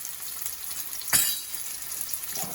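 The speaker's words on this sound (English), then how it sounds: "You want to hear that sizzling sound." Onions sizzle in hot oil in a pan while stew pumpkin is being cooked, a steady faint hiss with one brief louder crackling burst partway through, no voices.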